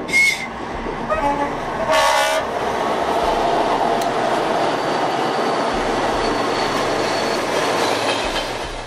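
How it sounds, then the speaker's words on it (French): Long train rolling past on a railway in Uzbekistan, loud and close, with two short horn blasts at the start followed by a steady rumbling, clattering roar of wagons and wheels. "Les trains, il n'y en a pas beaucoup, mais alors quand il y en a, qu'est-ce qu'ils sont longs et longs et longs."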